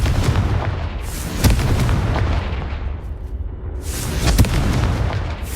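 Confringo fire spell blast in Hogwarts Legacy, heavy booms with sharp cracks landing at a few spaced moments over a continuous loud rumble, close and forceful.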